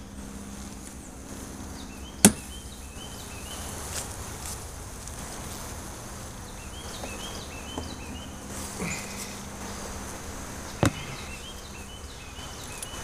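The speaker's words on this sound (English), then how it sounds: "Plenty of bees on top." Faint, steady honeybee buzzing hums in the background during a fall hive inspection, with a few sharp clicks and taps standing out over the quiet drone.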